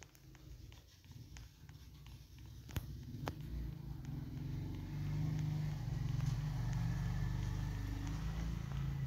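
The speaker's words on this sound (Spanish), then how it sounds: "Llevo una moto, güey, qué miedo." A motorcycle engine in the Roblox video game hums low and steady, building gradually louder into a sustained drone with a few faint clicks over it.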